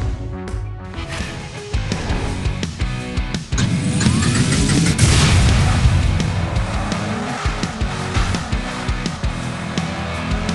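A toy car races in the Hot Wheels Unlimited video game: a loud, continuous engine roar with screeching tire squeals and skids that grows busier and denser midway, with no talking.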